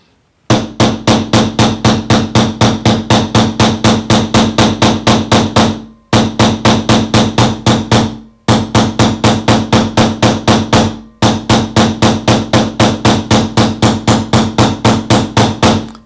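A combination texture hammer beats a metal sheet in fast, even strikes, loud and close, in three long runs broken by short pauses.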